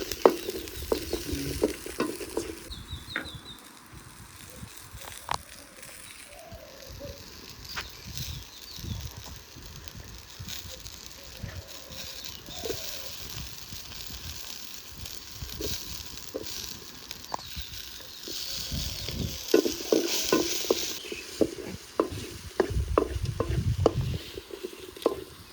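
Fennel seeds fry in oil for a mushroom kurma, giving a steady close sizzle with scattered clicks and scrapes of stirring that grow busier and louder toward the end. No one speaks.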